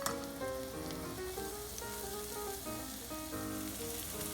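Garlic and onion frying in hot oil for a Filipino sardine and cabbage dish, a steady close sizzle throughout with no talking.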